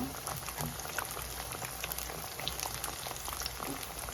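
Onions deep-fry in hot oil, a steady dense sizzle and bubbling crackle with scattered pops, fairly quiet and continuous.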